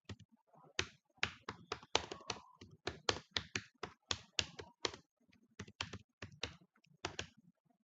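HTML code typed on a computer keyboard, crisp close keystrokes in quick irregular bursts separated by short pauses, clear and isolated in a quiet room.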